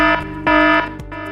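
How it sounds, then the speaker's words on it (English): A safety alarm in a brewery warehouse blares in loud, harmonically rich electronic tones, pulsing in repeated bursts with short breaks between them. "If you hear the alarm sound"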